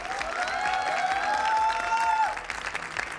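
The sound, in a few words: audience applause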